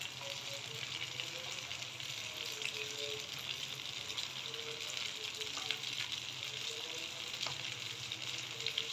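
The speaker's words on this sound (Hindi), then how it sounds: "पकौड़ा ऑयल के अंदर जाते हैं तो ये फ़ौरन से ऊपर उठ जाते हैं" Rice pakoras frying in hot oil give off a steady, busy sizzle with faint crackles and small stirring sounds, continuous and close, with no talking.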